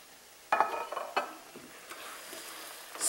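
Spices and juices are stirred together in a pan, a few scraping and clinking strokes of a utensil against the metal over a faint sizzle, quiet and close, with no talking.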